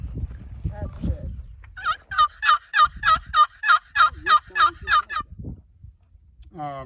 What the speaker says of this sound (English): The Tom's gobble.